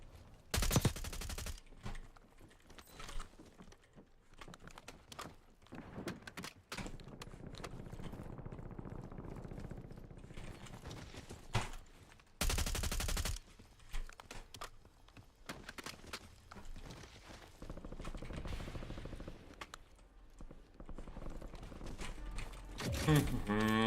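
Gunfire in Call of Duty: Warzone, bursts of rapid automatic shots alternating with quieter stretches of movement and footsteps, with a few heavier blasts breaking through.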